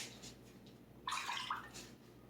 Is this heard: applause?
no